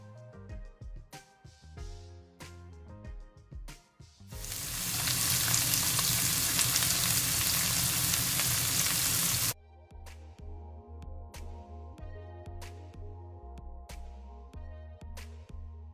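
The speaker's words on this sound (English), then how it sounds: "You're just gonna allow your pineapple to saute for at least 1 minute" Pineapple sautéing in a pan gives a loud, dense sizzle for about five seconds in the middle, with plucked, melodic music playing before and after it.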